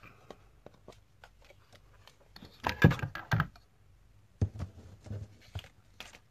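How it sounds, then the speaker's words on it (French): A paper trimmer slicing card for a handmade pop-up card, with faint handling clicks followed by a couple of close, crisp cutting strokes and a few softer scrapes afterward. "Donc, je viens chercher mon massicot. Et je viens couper."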